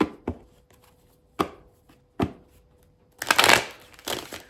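Cards are handled and shuffled in a few sharp taps, followed by a longer riffling burst near the end, close and quiet with no talking.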